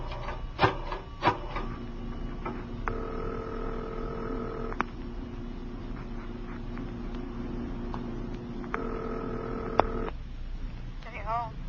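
A telephone in a roadside service station phone booth, old radio drama setting: a few sharp clicks and rattles, then two long steady dial tones separated by a pause, with talk over parts of it.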